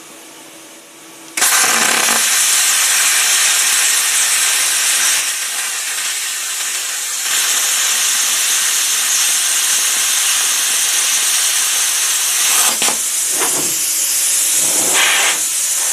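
A power tool cutting through an aluminum radiator, a loud, steady high-pitched hissing whine that starts abruptly and runs continuously with brief dips near the end, no talking.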